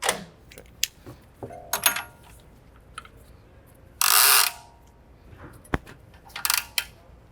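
Rope ratchet handled while holding up a BMW X3 front axle during control arm work: scattered mechanical clicks and rattles, a loud brief ratcheting burst midway, then more light clicks nearby.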